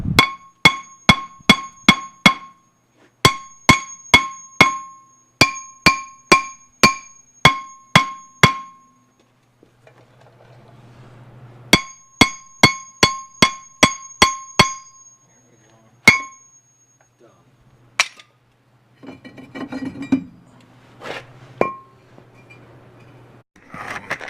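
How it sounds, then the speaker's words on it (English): Sharp metallic hammer taps on rusty brake parts of a 2001 Jeep Grand Cherokee, struck in quick clusters of ringing clangs with short pauses, followed by softer clunks and handling noises. "Maybe just hit it on the face, knock some rust loose."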